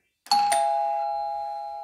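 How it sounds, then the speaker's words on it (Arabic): Electric doorbell rung by pressing a momentary spring button, a single bright chime struck twice in quick succession, then ringing out and slowly decaying, alone with no talk. "رجع إذا ضغطت على الجرس يرن الجرس"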